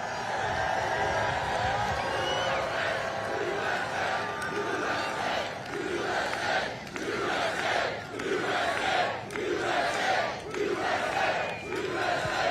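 A large crowd at a Trump rally near an aircraft hangar roars and cheers continuously, with swelling rhythmic chants and shouts rising and falling, loud and dense throughout.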